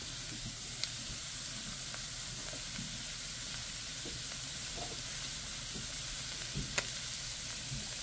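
Yellow, red and green capsicum fry in a pan with other vegetables and a little salt, a continuous close sizzle with faint stirring clicks and a couple of sharp taps.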